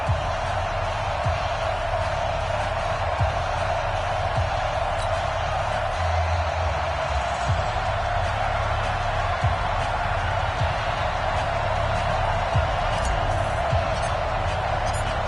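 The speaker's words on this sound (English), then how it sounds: "This crowd is ready as their guys get set to match up between the Green Bay Packers and the Minnesota Vikings." Dense, steady stadium crowd roar from an EA Sports NFL video game, Green Bay Packers versus Minnesota Vikings, loud and continuous with occasional thumps beneath.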